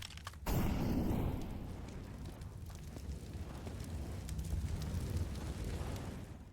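An incendiary grenade in a video game ignites with a sudden whooshing burst, then settles into a continuous low roar of burning flames that holds steady and fairly loud.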